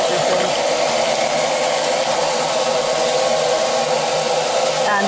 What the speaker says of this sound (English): now vacuuming up the hay, the grass and the litter which is in his way